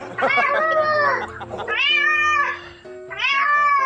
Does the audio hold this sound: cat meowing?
yes